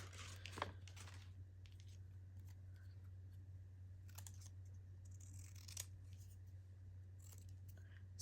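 Scissors snip out a small scrap of blue paper at a crafting table, a few crisp, quiet cuts and rustles spread over several seconds against a steady low hum.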